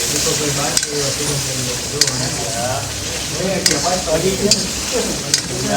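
Onion curry with red chili powder fries in a pan, a loud, close, steady sizzle broken by periodic scraping stirs and sharp clinks of the utensil against the pan.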